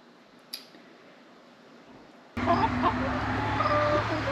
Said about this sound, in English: All right, back outside with the chicky chicks.